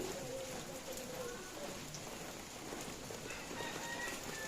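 Rain falls steadily in Tanay, a soft continuous hiss with faint bird or chicken calls in the background.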